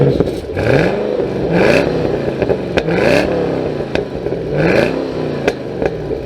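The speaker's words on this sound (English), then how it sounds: "Let's give it a little bit of a rev. It's actually got backfire." A 2013 Chevy Camaro ZL1 V8 revs repeatedly in loud, rising pulls, each swell followed by sharp crackling pops of backfire, close by with no talking.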